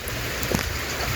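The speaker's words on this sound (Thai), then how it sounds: "ไปฝนตกฝนลินแล้วนี่" Steady rain patters down on a surface in a continuous wash of hiss, with no voices present.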